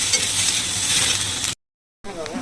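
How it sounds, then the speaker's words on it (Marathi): Onion and garlic roasting in a pan for paneer masala, a dense continuous sizzle that cuts to silence for a moment, then resumes. "त्यामध्ये लसूण सुद्धा ॲड करणार आहे आणि ते पण कांदा सुद्धा चांगले भाजतो"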